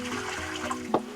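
Water dumped out of the filter housing of a 2022 Winnebago Travato RV, a short splash near the end of a low hum.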